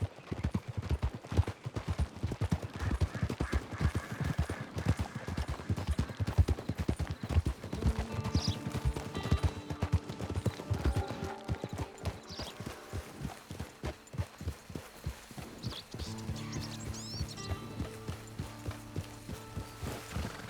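Horse hooves clip-clop steadily in a Red Dead Redemption 2 game scene, a quick, loud rhythmic trot at first that settles into slower, softer steps alongside faint mechanical rattles and low ambient tones.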